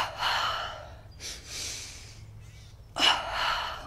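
Breathing exercise during yoga-style energization practice: sharp nasal inhales and exhales in quick doubled bursts, a pair near the start, another in the middle and one more at the end, close and fairly quiet.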